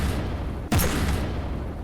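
Single cannon shot from a turret in the naval combat game From the Depths, a sharp broadband blast with a short rumbling tail over a steady low engine drone.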